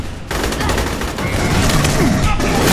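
Sustained gunfire in the sci-fi shooter Aliens: Colonial Marines, loud and dense, with overlapping bursts and booms filling the whole stretch and a voice speaking underneath.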